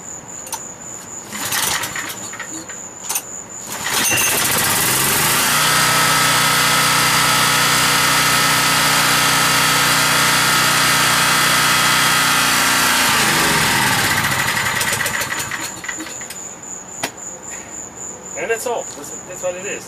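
Generator engine running on LP or natural gas starts after a few seconds of background noise, then holds a loud steady drone close by before cutting off near the end, leaving quieter ambient sounds.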